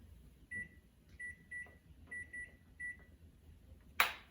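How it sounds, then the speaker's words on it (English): A kitchen timer is set by a series of short, clear beeps, about seven button presses at uneven intervals, followed by a sharp clatter near the end in a quiet kitchen. "So I'm gonna set a timer for 11 minutes."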